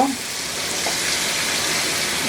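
Big pieces of bone-in meat fry with spices in a pot, giving a steady, close, broadband sizzle that holds evenly throughout.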